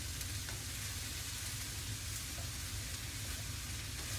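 Mexican fried rice made from leftovers sizzles and crackles in a hot pan while being stirred, a loud, constant frying hiss close up with no talking.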